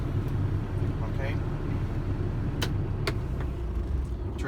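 A truck engine idles with a steady low rumble inside the cab before an air brake test, with a few sharp clicks and knocks over the hum.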